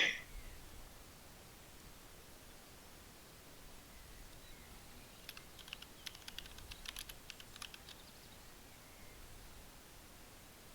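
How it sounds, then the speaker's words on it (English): Faint typing on a computer keyboard, scattered clicking keystrokes over steady background hiss, growing busier midway before trailing off. "I'm much better at typing than I am talking"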